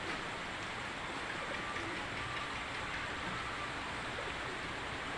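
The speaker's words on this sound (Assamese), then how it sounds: "চাওকচোন বাৰু, বৰষুণ নেৰাই হ'ল।" Continuous rain falls during a flood, a steady, dense hiss of water with no breaks and no voices.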